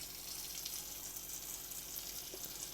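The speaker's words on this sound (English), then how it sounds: "You do have your pressurized water system, so as you can see there, the water is working," Hot water runs from the pressurized tap of an Adria Supersonic 780DC motorhome, a steady soft hiss of flowing water into the sink, continuous and fairly quiet throughout with no voices.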